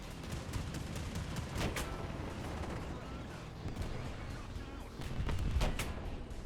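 Gunfire in War Thunder as an enemy across the highway shoots at the player's tank, a run of sharp bangs and rattling shots over rumbling engine noise, some hits close and heavy.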